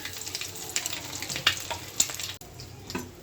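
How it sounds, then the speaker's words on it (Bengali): Onions sizzle and fry in a pan, a steady crackling hiss with small pops and the occasional clink of stirring, close and fairly loud with no voices. "এই যে পেঁয়াজটাও ভাজি হয়ে আসছে"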